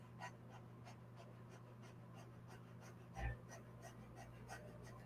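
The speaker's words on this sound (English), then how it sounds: "go ahead and stick your tongue out and pant through the mouth" A person pants rapidly through the open mouth with the tongue out during a breathing exercise, giving soft, rhythmic, breathy puffs, quiet and close over a steady low hum.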